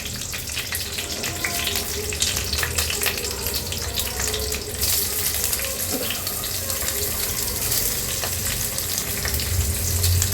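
Masala frying in a pan for paneer butter masala: a steady, loud, close hiss of sizzling oil that continues throughout, with no speech.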